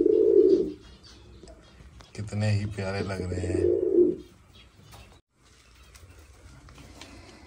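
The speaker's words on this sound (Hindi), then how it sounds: "सारे परिंदे कबूतर नीचे आए हुए हैं" Pigeons coo softly in low, throaty bursts nearby, with a person speaking briefly over them.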